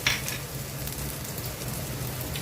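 Cumin, bay leaf and chopped ginger hitting hot oil for dal tadka made with moong dal: a steady close crackling sizzle with a brighter spatter at the start, heard alone.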